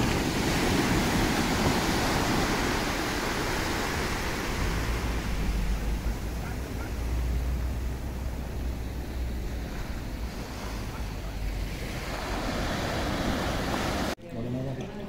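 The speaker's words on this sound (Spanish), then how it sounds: "A la playa vacía. Está el mar como un plato." Calm sea at an empty beach in Gijón, a steady broadband wash of low surf and wind noise lasting throughout, continuous and fairly even with a faint low rumble, no clear voices.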